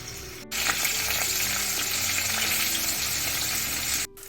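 Green masala paste dropped into hot oil in a pan for a dry prawn dish, bursting into a loud, even sizzle that holds steady, with brief quiet before and after.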